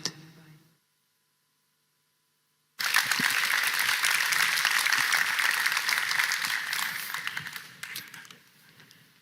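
A crowd at a Xiaomi 13T smartphone launch event breaks into loud sustained hand clapping after a pause, the dense applause holding steady for several seconds before tapering off at the end.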